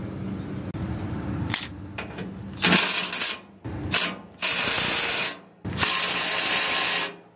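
Impact wrench tightening the motor mounting nuts on a refrigeration unit, firing in four loud bursts of hammering between quieter mechanical handling noises, close by.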